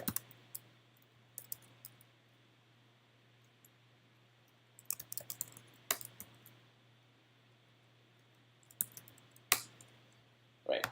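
Typing on a computer keyboard comes in scattered bursts of quick, light key clicks separated by quiet pauses, with a faint steady hum underneath.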